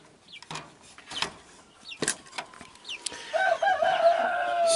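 Young mid-sized chickens cluck and peep while being caught with a net and moved, with scattered short calls early on and a denser, steadier run of chirping clucks toward the end, fairly close.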